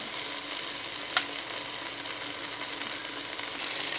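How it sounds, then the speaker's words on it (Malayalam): Tomatoes cooking in a pan give off a soft, even hiss of simmering, with a single sharp clink partway through; quiet and close, with no one speaking. "ഈ തക്കാളി ഒന്ന് നന്നായിട്ട് വെന്ത് വരട്ടെ"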